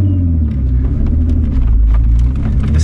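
A Kia off-roader with a manual transmission grinds up over logs, its engine a loud, steady close-up rumble and drone with faint knocks and clatter on top, and no voices.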